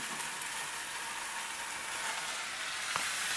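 A maitake mushroom steak sizzles steadily in a hot pan just after being flipped, a dense, close frying hiss throughout with a faint clink near the end.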